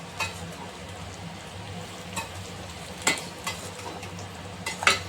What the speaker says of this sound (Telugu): ఏమాత్రం అడుగు అనేది పట్టకుండా కలుపుకుంటానే ఉండాలి మనం కంటిన్యూస్గా ఈ జల్లిగరిటె సహాయంతో ఈ ముక్కల్ని